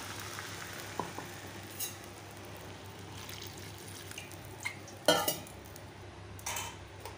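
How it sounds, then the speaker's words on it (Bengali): Spice paste and water go into a pan for a fish curry with flat beans and potato: faint scrapes and light clinks over a soft steady hum, with one louder metallic clatter partway through. "এখন এই মশলাটাকে দিয়ে দিলাম, এখন এই জলটাকে দিয়ে দিলাম।"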